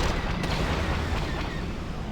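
Explosions in Star Wars Battlefront 2 boom in a dense, loud, continuous wash of blasts and gunfire, close and without pause.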